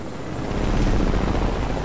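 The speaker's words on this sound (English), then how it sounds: "There's another chopper." Helicopter rotor drone in a video game, a steady low rumbling roar that swells slightly and holds, with no talk over it.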